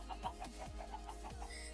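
Chickens in Minecraft (FTB Continuum modpack) clucking in a soft, repeated series of short calls, fairly faint against a low steady background hum.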